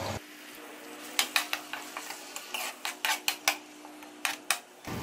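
Spoon stirring chopped onions in a pot as they fry, a quiet sizzle broken by a series of close, sharp metal clinks and scrapes in an irregular rhythm.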